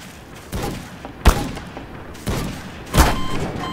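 Sniper gunshots in a Garry's Mod video game: two sharp, loud cracks spaced a couple of seconds apart, each with a brief booming tail, and no talking.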